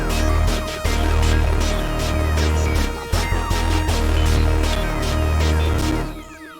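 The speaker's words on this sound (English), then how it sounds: "Then we have an electric brass." Electric brass synth lead in an FL Studio beat, a dense buzzy melodic line over heavy bass, loud and continuous with no voices, fading at the end.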